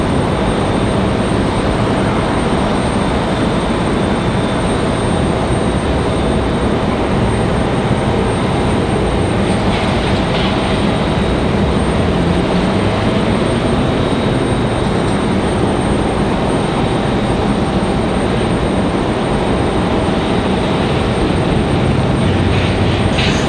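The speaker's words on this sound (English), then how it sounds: "So enjoy the 777 arrival." An Air France Boeing 777 airliner arrives and lands at Raleigh-Durham International, its engines a steady, loud broadband roar that holds throughout without a break.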